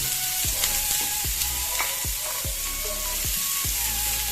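Onions and toasted garlic fry in a pan for corn and mushroom soup, a continuous close sizzle broken by about eight regular scraping strokes of a spoon roughly every half second, no talking.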